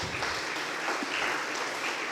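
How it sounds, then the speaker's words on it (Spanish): A church congregation gives a loud, dense round of applause for the Lord, a steady wash of clapping with no let-up. "Denle un fuerte aplauso al Señor."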